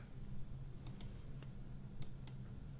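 Four sharp, bright clicks land in two closely spaced pairs, like a computer mouse button pressed while working through trip booking software, heard fairly close over a steady low hum with no talking.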